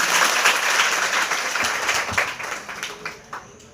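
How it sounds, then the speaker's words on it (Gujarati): An audience at a school girls' education festival applauds a Class 10 student speaker, a dense burst of clapping that fades out over a few seconds. "જોરદાર તાળીઓ થઈ જાય એમના માટે."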